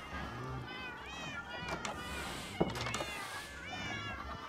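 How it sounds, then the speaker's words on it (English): Many cats in the Minecraft video game meow repeatedly in overlapping high-pitched cries, with a few thumps and a player voice talking over them. "We're gonna name every single one of these cats Sylvester"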